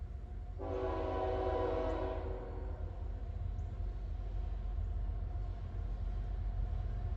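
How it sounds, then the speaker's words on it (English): A loaded coal freight train rumbles steadily at Point of Rocks on the old B&O main line while a loud horn blasts for about a second and a half, then the heavy rolling noise continues alone. "It looks to be a loaded coal train coming out of West Virginia"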